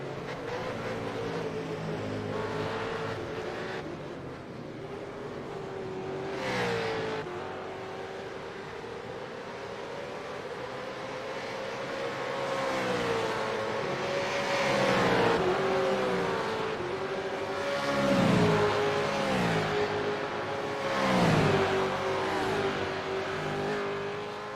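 V8 Supercars racing wheel to wheel in a three-way fight for position at Michelin Raceway Road Atlanta, with engines droning and rising and falling as the cars pass. The sound is steady and distant and continues throughout.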